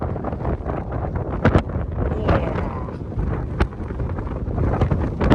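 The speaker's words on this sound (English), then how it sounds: "pretty windy up here today" Strong wind on a Lake District hilltop buffets the microphone in steady gusts, a loud rumbling roar with sharper bursts now and then, heard alone.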